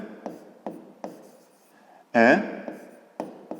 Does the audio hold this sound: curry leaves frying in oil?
no